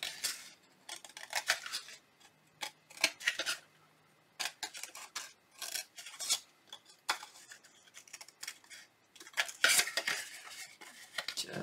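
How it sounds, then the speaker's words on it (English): Scissors snip through excess paper along the curved top of a Halloween tombstone treat box, a quick run of crisp, close cuts and paper rustles with short pauses and no talking. "Just cut right along the top of the curve."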